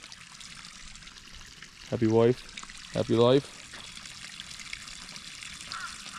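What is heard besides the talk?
water from a hose filling a lined duck pond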